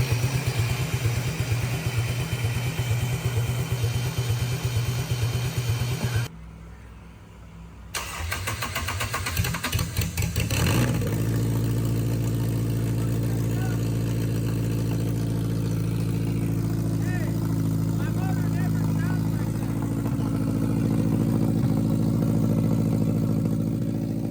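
A Honda K24A engine, naturally aspirated without its turbo, is cranked by the starter, briefly drops out, then catches and fires up, settling into a loud, steady idle close by with no talk.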